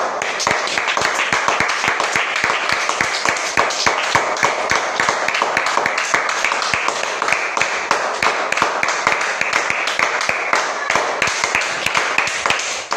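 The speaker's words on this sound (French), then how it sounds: "Applaudissons pour le Seigneur Jésus" A church congregation claps steadily and loudly for about thirteen seconds, a dense, continuous roomful of hands with no talking over it.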